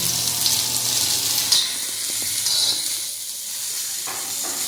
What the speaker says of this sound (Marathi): कांदा खूप असा लाल करायचा नाही आहे थोडासा भाजला ना गुलाबी